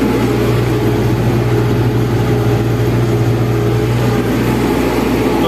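Tractor engine drones loud and steady while pulling an AG 2.4 disc harrow at full working depth across a sunflower field, a continuous heavy rumble with no breaks and no voices.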